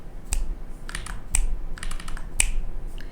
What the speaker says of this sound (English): You can hear me snapping still.